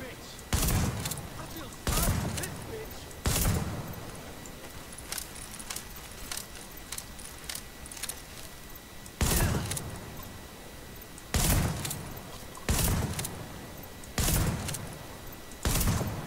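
Gunfire in the video game The Division, with loud, sharp single shots spaced unevenly across the stretch, some in quick pairs, over quieter game ambience and someone talking between the shots.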